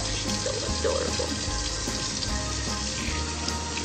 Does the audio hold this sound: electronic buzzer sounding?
no